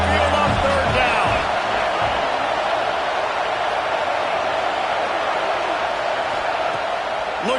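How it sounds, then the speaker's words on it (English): A dense, steady roar from a big college football stadium crowd, the Alabama Crimson Tide faithful at Saban Field on third down, holding loud and sustained with a brief swell near the start. "The Tide crowd rolling noise down on the Saban field on 3rd down."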